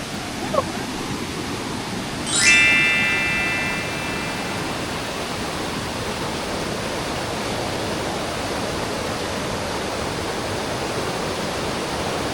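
The Khao Banchob waterfall in Chanthaburi, Thailand, roars in a steady, even rush of water, with a brief high whistle early on.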